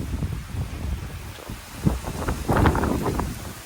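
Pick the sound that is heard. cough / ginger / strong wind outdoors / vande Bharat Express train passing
strong wind outdoors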